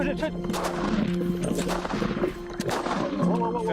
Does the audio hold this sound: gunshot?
yes